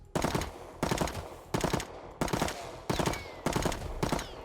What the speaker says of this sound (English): So there's that 3-round burst.